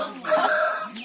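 A medium-sized rooster of the Kili Mooku breed gives a short, close cluck lasting about a second, fairly loud against a quiet background.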